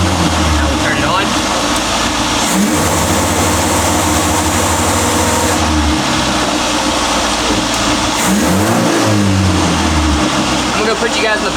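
A budget Toyota Corolla with two-step launch control set low, around 2,000 RPM, with a bad misfire at idle, drones loudly and steadily, with engine pitch shifts as the revs change; someone talks over it.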